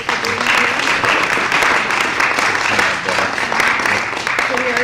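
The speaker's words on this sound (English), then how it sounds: "Let's give them a round of applause." An audience applauds at a Moral Mondays gathering, a loud, dense wash of clapping that rolls on steadily for the whole stretch, with a few voices mixed in.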